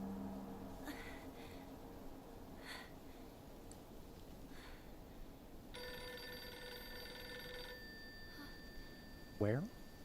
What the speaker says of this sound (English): that phone is loud